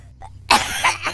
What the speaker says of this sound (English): was laughing and coughing at the same time